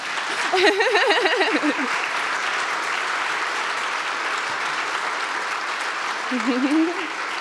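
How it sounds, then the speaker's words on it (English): An audience at a Berlin museum talk series claps steadily in a dense, even wash of applause that holds at moderate loudness throughout, with a voice briefly heard near the start and again near the end. "Give it an applause, I would say."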